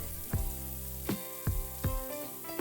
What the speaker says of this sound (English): Add salt and fry until the onions are soft.